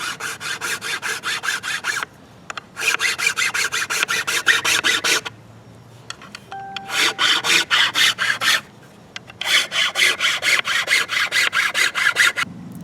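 A chainsaw file rasping into the tip overlay of a primitive wooden bow, rapid rhythmic back-and-forth strokes in four bursts separated by short pauses, close and loud with no voices.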